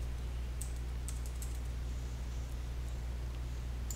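Faint typing on a computer keyboard, a few scattered light key clicks over a steady low hum, with no voices.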